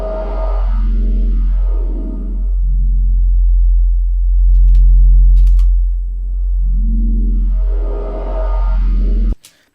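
Synthesized bass tone pitched up and down, a loud sine-like hum whose pitch sweeps up and back in smooth repeated glides, steady and alone before cutting off abruptly at the end.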